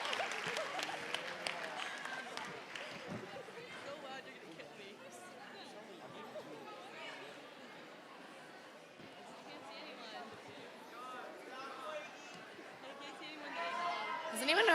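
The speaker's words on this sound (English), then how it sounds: "Give them a round of applause." Audience applause at a school talent show, with sustained clapping and crowd chatter across the whole stretch, swelling louder toward the end.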